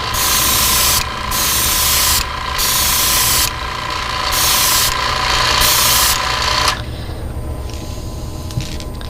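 An airbrush sprays pink paint onto the belly of a fishing lure in a steady hissing rush, cut by a few brief pauses, then drops to a softer, quieter hiss near the end; no talking.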